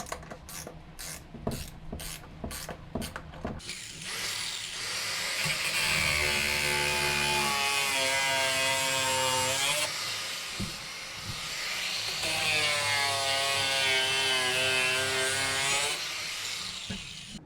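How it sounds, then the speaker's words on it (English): A power tool whirs in long sustained runs as holes are countersunk and bolts tightened on a pallet-wood Viking shield handle, preceded by a quick series of short mechanical bursts. "I then countersunk the holes into the handle and tightened up the bolts."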